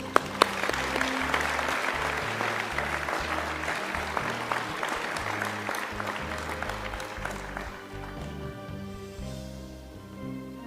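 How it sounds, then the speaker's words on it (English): An awards ceremony audience applauds community members, a sustained wash of clapping heard over music playing beneath it, gradually thinning out toward the end. "Can we please have another round of applause for these incredibly important members of our community?"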